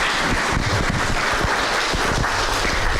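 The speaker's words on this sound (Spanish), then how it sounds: "puedes regalarle un fuerte aplauso al Rey en esta hora" A church congregation claps loudly and continuously, a dense close wash of applause that fills the whole space.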